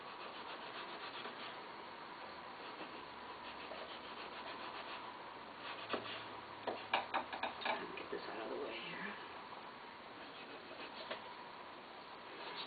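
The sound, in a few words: serrated knife sawing through food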